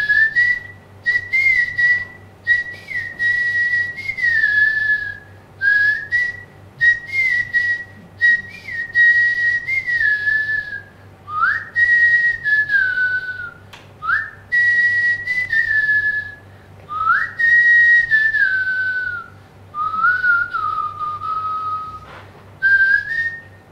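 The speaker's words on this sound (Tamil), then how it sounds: "ஒரு லவ் சாங் அப்படின்றது விசில் வாசிக்கும்" Clear melodic whistling of a love song, a single performer carrying a sliding, wavering tune in a steady run of phrases with brief breaths between them, close and fairly loud with no talking.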